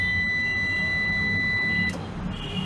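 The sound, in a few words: beep from Microtek Legend 1000 UPS when switched on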